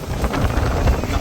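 Strong wind buffets the microphone at a roadside stop on the Mariveles Loop during a stormy Honda ADV 160 ride, a loud continuous rumbling blast with no voices.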